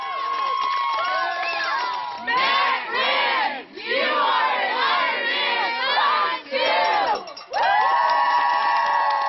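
A crowd cheers and whoops at the Lake Placid Olympic Oval, with loud waves of shouting voices rising and falling in bursts, separated by brief dips.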